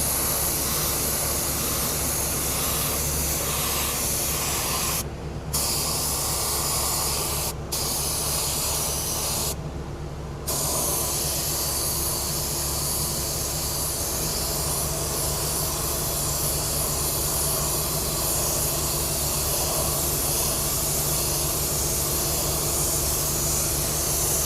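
Spray gun applying heavy flake silver paint to a Porsche wheel rim under curb rash repair, a loud continuous hiss broken by two or three brief pauses, with no voices.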